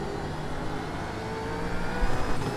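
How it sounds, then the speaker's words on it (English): A race car engine in iRacing drones steadily at moderate volume, a continuous whirring roar with a slight swell near the end. "hopefully you can hear the car. You can hear the car now, that's good."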